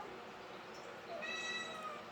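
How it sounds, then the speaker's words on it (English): A cat meows once, a drawn-out, high, wavering call rising over a steady background hiss, fairly faint and close. "What a nice meow."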